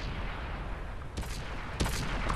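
A tank cannon fires in the World of Tanks video game: two sharp, fairly distant blasts about half a second apart, heard over a steady wash of battlefield rumble.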